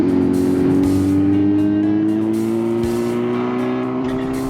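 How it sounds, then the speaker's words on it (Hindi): A Kawasaki Z900 motorcycle fitted with a full exhaust system rides along on a mountain road, its engine droning loud and close in a steady tone that slowly rises in pitch as it accelerates. "क्योंकि बाइक में फुल सिस्टम लगा हुआ है तो आवाज बहुत ज्यादा थी।"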